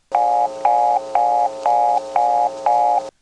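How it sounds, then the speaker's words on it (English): Step-by-step telephone selectors produce a reorder tone of six evenly spaced, loud beeps, each about a third of a second long with short gaps and a faint click at each start. "you can actually tell because from the selectors it sounds like this"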